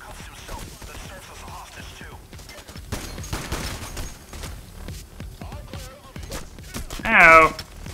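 Gunfire during a diamond heist in the video game PayDay, fought through smoke: a busy game mix of rattling shots and clatter, with a brief loud burst near the end.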